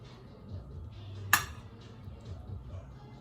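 A utensil scoops roasted cauliflower and sweet potato onto tacos, giving soft scraping and one sharp clink of metal against a dish, quiet and close.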